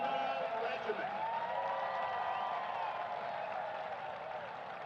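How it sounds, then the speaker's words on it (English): Crowd at a high school football game applauds for the Perry Puma Regiment marching band, a steady broad wash of clapping and cheering lasting the whole stretch, with a voice carrying faintly through it. "So let's give another round of applause for the mighty Puma Regiment."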